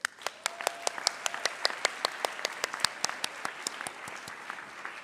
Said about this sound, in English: So please let's offer them another round of applause.